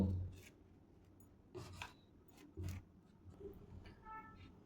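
Butter spread across slices of bread for a chicken cheese sandwich: quiet, close scraping strokes of a knife in short irregular bursts, with no talk.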